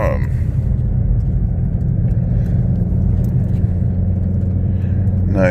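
A Ford Mustang GT350 engine pulling in gear with a manual clutch, a steady loud low rumble that holds throughout, with a voice speaking briefly near the end.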